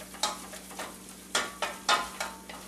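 A cheese soufflé base is stirred in a pan, with a spoon scraping through the thick mixture in about eight distinct, irregular strokes. The strokes are close and fairly soft, with a faint steady hum underneath.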